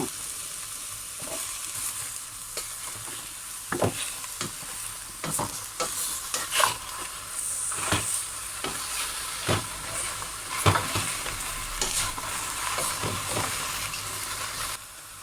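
Purple eggplant and fish balls are stir-fried in a hot pan, giving a steady sizzling hiss. Scrapes and clanks of the spatula tossing the food recur again and again. No one speaks.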